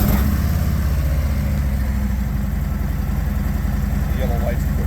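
A 2021 Harley-Davidson Street Glide motorcycle running at a steady idle, a loud, close, deep rumble that holds even throughout.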